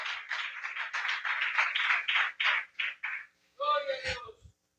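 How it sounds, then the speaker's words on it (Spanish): A church congregation at a Spanish-language sermon claps in quick, fairly even rhythm for about three seconds, then the clapping breaks off and a voice briefly takes over. "Den un aplauso fuerte si es para el Señor."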